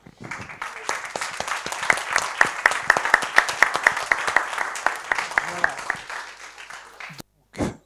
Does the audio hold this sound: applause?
yes